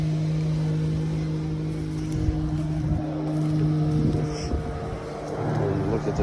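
An auction vehicle's engine idles quietly with a steady low hum, with faint wind and light background noise passing over it.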